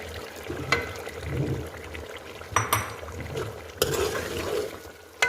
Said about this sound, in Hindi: दही डालने के बाद मैंने इसमें चम्मच हिला दिया है